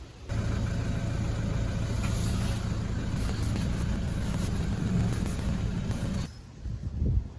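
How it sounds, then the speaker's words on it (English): A Toyota 120 Prado engine turns over and settles into a steady, loud idle rumble close by, running evenly for several seconds before dropping off near the end, with no talking. "Let's go start the car and turn from lock to lock a couple of times."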